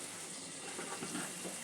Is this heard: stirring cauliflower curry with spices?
yes